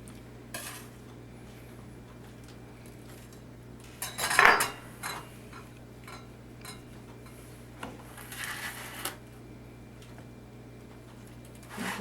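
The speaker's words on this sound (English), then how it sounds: "you've got to get that off again of the baking sheet, or it's going to keep baking" Freshly baked cookies being lifted off a metal baking sheet, with a couple of scraping metallic clinks, one louder scrape and clatter in the middle and softer ones later, close and with no talking.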